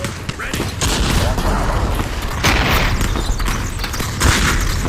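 Gunfire in the VR shooter Aim XR comes as continuous booming volleys, loud and close, with heavier thumps now and then, while someone talks over it.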